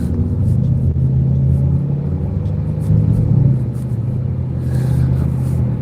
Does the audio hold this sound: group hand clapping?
no